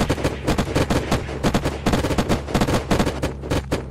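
Rapid automatic gunfire in the survival game Unturned, loud and close, with dense repeated bursts of shots and no talking.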